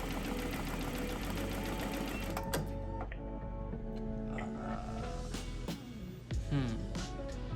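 A Ricoma MT1502 embroidery machine runs without stitching. Its rapid, steady mechanical chatter sounds close for a couple of seconds, then drops away, leaving quieter scattered clicks and handling knocks.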